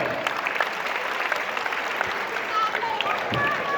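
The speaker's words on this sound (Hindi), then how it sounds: "तो एक बार जोरदार ताली से अनुमोदन" An audience at a Jain chaturmas kalash installation ceremony claps continuously, a steady, moderately loud wash of applause with faint voices mixed in beneath it.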